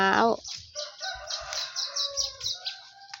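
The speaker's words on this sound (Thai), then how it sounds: "จะมีเสียงนกเสียงไก่ร้อง" A rooster's crow is cut off at the very start, then a run of bright, repeated bird chirps continues nearby.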